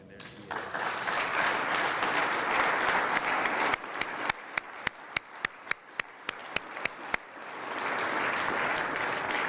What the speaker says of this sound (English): Ladies and gentlemen, a round of applause as we recognize the accomplishments of the 1949 Aerial Gunnery Competition winners.